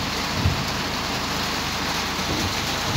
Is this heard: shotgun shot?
no